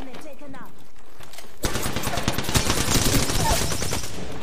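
Rapid automatic gunfire from a firefight in the video game Apex Legends bursts in loudly after a quiet start with faint talk, then continues as dense, sustained shooting to the end.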